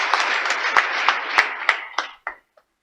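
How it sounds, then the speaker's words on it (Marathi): An audience claps at a political rally. The close, crisp claps run briefly, then thin into a few scattered hits and fade to silence. "एकदा जोरदार टाळ्या त्यांच्यासाठी एकदा होऊन जाऊ द्या"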